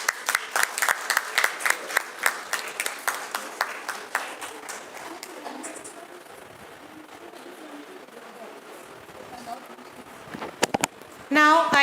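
Hands clap at a school valedictory function, sharp distinct strokes at first, thinning and fading after a few seconds into a quieter room where voices speak, with a brief burst of noise near the end.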